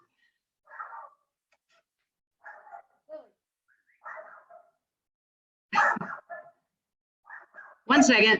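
A pet dog barks in a home several times, scattered short yips and barks spread across the moment, two louder, sharper barks near the end, with a person briefly speaking.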